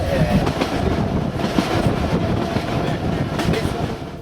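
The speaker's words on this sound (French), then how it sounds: "nous circulons dans un train composé d'une locomotive diesel remorquant deux petites remorques, le tout à écartement de 76 cm" A narrow-gauge train on 76 cm track, a diesel locomotive hauling two small trailers, rolls along with a constant rumbling roar and rhythmic wheel clatter, heard up close from on board.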